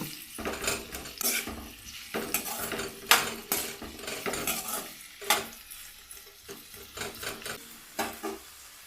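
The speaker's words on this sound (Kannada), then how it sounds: "ಇವು ಚೆನ್ನಾಗಿ ಕೆಂಪಗಾಗೋವರೆಗೂ ಹುರಿಬೇಕು ಇವನ್ನ" Onions frying in oil in a pan for onion chutney, a soft sizzle under repeated scraping and clinking as a metal spoon stirs against the pan, close and fairly quiet.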